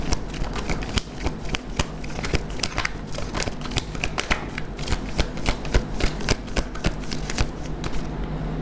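A deck of cards shuffled over and over in a card-reading session, producing a steady, close run of riffling flutter and sharp crisp snaps with no talking.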